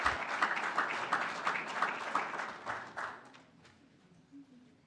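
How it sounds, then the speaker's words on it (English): Applause for award recipients at a school governing board meeting, a steady round of clapping from the room that tapers and fades toward the end. "a round of applause for all our recipients tonight"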